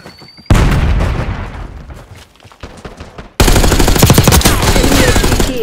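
Loud automatic gunfire and explosive booms from the video game Call of Duty: Black Ops 6 come in two heavy bursts, split by a short quieter gap of scattered shots.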